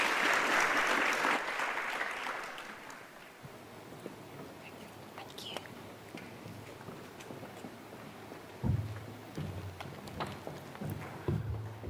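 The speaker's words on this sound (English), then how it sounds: "Can we have another round of applause, please" A hall audience bursts into loud, dense applause after a panel discussion at a tourism event. The clapping lasts about three seconds, then fades into quieter room noise with a few scattered thumps and movements.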